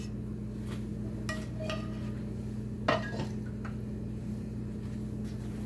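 Kitchen clinks of a pot and utensils as vermicelli is added for sheer khurma, a few soft taps and one louder knock near three seconds over a steady hum.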